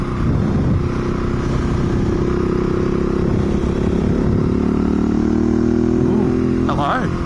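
A 2019 KTM 701 motorcycle ridden on the road, its engine droning loudly and steadily close to the microphone with wind rush throughout, pitch shifting slightly near the end.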